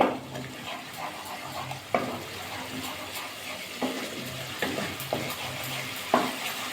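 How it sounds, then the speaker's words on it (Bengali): Spice paste of ginger and tomato frying in oil for a cauliflower curry, a soft continuous sizzle broken by periodic scraping stirs of a spoon against the pan. "ভালো করে মশলাটা কষিয়ে দিতে হবে"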